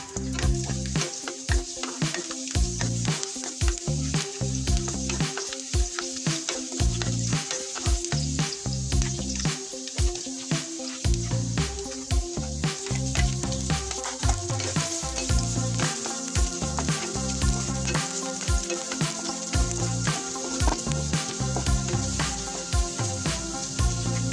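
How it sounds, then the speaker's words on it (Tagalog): Garlic, onion and ginger sauté in hot oil in a pan, giving a steady, loud sizzle with frying crackle and occasional stirring throughout, with no talking. "lagyan ng mantika at igisa lang muna natin ang ating bawang, sibuyas at luya"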